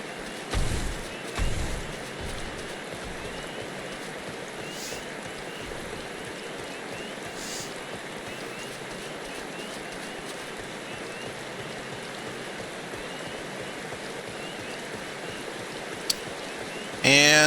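Steady rain pours in Final Fantasy XIV, a constant dense hiss of falling water that holds level throughout, with a few brief thumps and clicks near the start and end.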